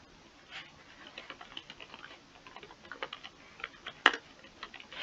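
Keys clatter on a computer keyboard as text is typed into Notepad, a quiet, close run of irregular soft clicks with one sharper keystroke standing out.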